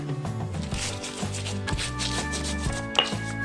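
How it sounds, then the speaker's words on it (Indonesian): Curly red chilies ground by hand for a pennywort curry, a close rough rubbing and crushing that repeats in short strokes over a tonal background hum. "Dahulu kita giling cabai merah keritingnya."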